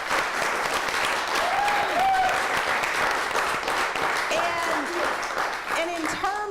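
An audience applauds at a talk on encouragement for students, a dense, steady clapping that fills the room, with people talking and some cheering heard over it.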